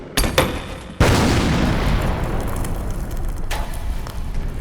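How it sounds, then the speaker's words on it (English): Grenade blasts in a Warhammer animation: a sharp crack, then a big booming explosion that rolls into a long roaring rumble, with a later smaller burst, loud and close. "Soldiers, throw your grenades!"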